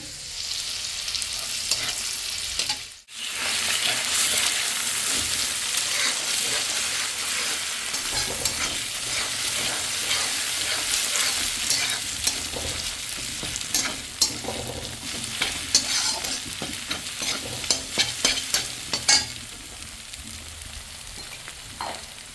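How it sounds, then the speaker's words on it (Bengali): Steady, loud sizzling of long beans and peanuts frying in hot oil, with frequent scraping and clacking from stirring throughout. "বরবটিটা কিন্তু লাল লাল করে ভেজে নিচ্ছি আর এখানে বাদামটাও ভাজা হয়ে গেছে"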